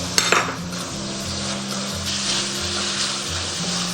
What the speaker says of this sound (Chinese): 接着我们下入青红椒，炒1分钟，